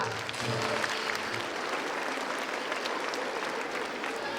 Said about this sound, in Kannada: ಚಪ್ಪಾಳೆ ಆದರೂ ಕೇಳಿಸ್ಲಿ ಸ್ವಲ್ಪ